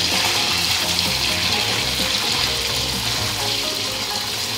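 Paneer fries in a hot pan with a loud, dense, continuous sizzle that holds steady throughout, with no voices over it.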